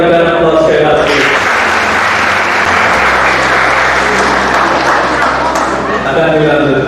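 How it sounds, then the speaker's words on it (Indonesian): Loud, sustained applause from a crowd of guests at a wedding blessing ceremony, steady clapping filling the room for several seconds without a break. "kita berikan aplaus sekali lagi"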